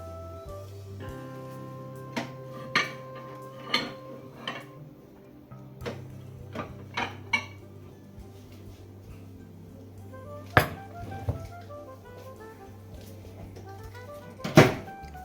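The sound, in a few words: dish being taken out of a microwave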